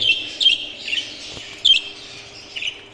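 Pet birds in a cage with cat litter as bedding give a few short, high chirps and tweets in bursts over a quiet background, with no talking.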